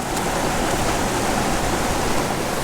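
A steep mountain creek tumbles and rushes in a steady, close, full-bodied roar of flowing water, dense and unbroken throughout with no voices.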